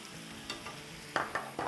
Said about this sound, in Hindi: अब इसको मिक्स कर लेंगे।